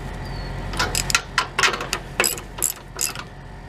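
Bolts on a Peterbilt truck's exhaust flex pipe clamp are snugged with a hand ratchet, a series of short metallic clicking bursts in quick irregular runs, close and fairly crisp over a steady background hum.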